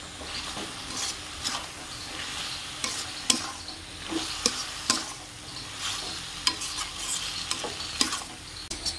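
Matar dal with bottle gourd being stir-fried in a pan, a continuous sizzle broken by repeated sharp scrapes and taps of a spatula against the pan, close and steady, with no talking.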